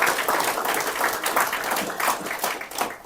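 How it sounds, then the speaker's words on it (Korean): A church congregation claps together in dense, sustained applause that fades slightly at the end. "다시 한번 박수 한번 드리죠."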